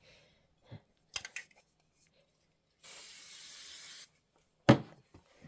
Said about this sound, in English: I'm going to spray my background fabric, make sure there's no fuzzies or anything